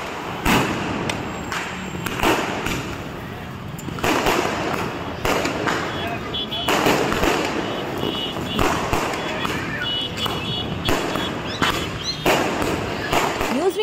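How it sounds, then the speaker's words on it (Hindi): Diwali fireworks and firecrackers burst continuously in Giridih, India, a dense crackle of bangs and thuds echoing nearby and farther off, with no break. "बच्चों में आतिशबाजी का खासा उत्साह देखने को मिला, तो महिलाओं के साथ युवतियों ने भी जमकर पटाखे जलाए।"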